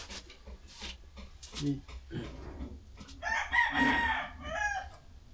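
Chickens cluck nearby and a rooster crows through the middle, over a low rumbling background.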